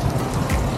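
Rain falls steadily on the streets of Manila's old walled city, a dense, even patter of drops on hard surfaces, close and moderately loud throughout with no voices.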